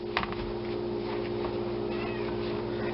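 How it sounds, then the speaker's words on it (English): Roommate's cat named Bartholomew meowing in a home kitchen, a few short meows near the start and scattered fainter cries over a steady low hum, fairly quiet and in the background. "And sorry for the cat meowing in the background."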